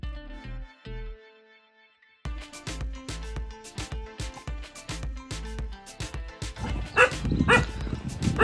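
Farm dogs at an orchard with orange trees bark at strangers, a string of sharp barks and yips in uneven bursts, close and loud, growing busier toward the end.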